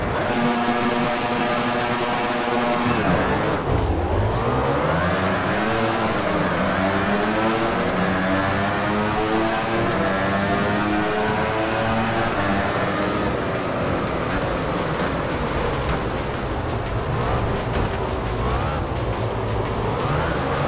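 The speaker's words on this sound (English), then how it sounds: "the bikes and riders are lined up and ready to race here at the Spang Circuit" Racing motorbikes roar at the start of the Malaysian Grand Prix at Sepang in the VR46 MotoGP video game. A loud, continuous engine wail dips, then climbs in pitch as the pack accelerates away.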